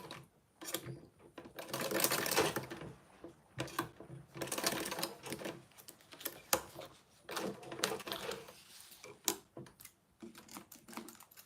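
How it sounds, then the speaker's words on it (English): A sewing machine runs in quick back-and-forth bursts while back stitching, close and moderately quiet, with mechanical clatter, short stops between runs and no talk. "We are going to back stitch."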